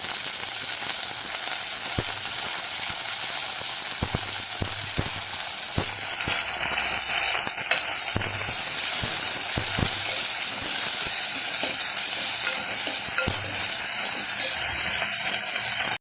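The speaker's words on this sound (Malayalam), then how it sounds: "ഇതിങ്ങനെ വഴറ്റി വഴറ്റി എടുത്തതിന് ശേഷം" Drumstick (moringa) leaves sautéed in a pan for a tamarind curry, giving a steady, close sizzling and hissing of frying with occasional faint clicks of stirring, alone and without talk.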